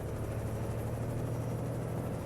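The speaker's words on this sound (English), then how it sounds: "So that explains what the helicopter sound was." Helicopter hovering overhead in American Truck Simulator, a steady low droning rotor and engine rumble that holds constant at moderate loudness throughout, with no talk.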